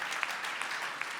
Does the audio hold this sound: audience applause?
yes